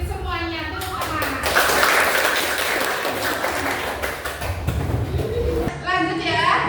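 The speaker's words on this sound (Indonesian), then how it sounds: "Tepuk tangan." A classroom of students claps in a short burst of applause that is dense and fairly close, with children's voices chattering over and around the clapping.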